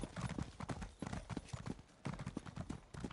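Horse hooves clip-clop at a steady trot in Elder Scrolls Online, a close, rhythmic series of hollow hoof strikes in quick clusters that continue through the clip at moderate loudness.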